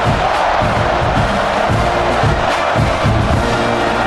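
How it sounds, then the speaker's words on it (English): A college football stadium crowd at a Texas A&M versus Mississippi State game keeps up a loud, steady roar of cheering and buzzing after a touchdown, filling the whole stretch. "this crowd is buzzing after that last score"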